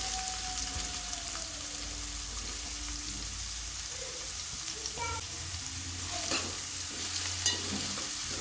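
Onion pieces and green chillies fry in hot oil for a potato and drumstick curry, giving a steady, close sizzle with occasional stirring scrapes and light pops and no talk.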